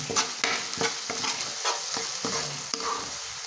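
Sliced onions and garlic frying in a pan for corned beef: a continuous sizzle under a brisk, fairly regular run of spatula strokes and scrapes, close and clear.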